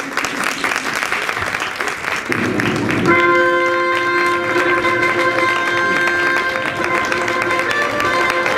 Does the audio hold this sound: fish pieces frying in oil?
no